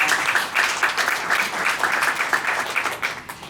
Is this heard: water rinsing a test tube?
no